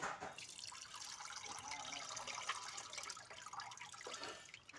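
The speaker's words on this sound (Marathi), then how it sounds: "मस्त पाणी टाकून घेतलं" Water splashing and trickling steadily into a container, a continuous wet rushing with small drips and gurgles throughout.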